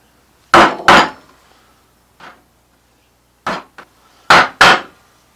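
Gouges worked into a wooden drawer front with mallet strikes, giving sharp, hollow wooden knocks that land mostly in close pairs with short pauses between, loud and near, with no talk.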